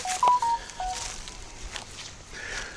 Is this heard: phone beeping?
yes